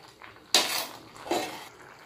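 Cooking clatter from stirring aval (poha) milk payasam in a pot, with a sharp metallic scrape of a spoon against the pot followed by a second softer stir, close and fairly loud, without any talking.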